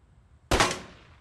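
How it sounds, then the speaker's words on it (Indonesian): A single sharp gunshot during shooting practice in a film, a sudden loud crack with a short decaying tail over a quiet background. "dia melatih Miguel untuk menembak"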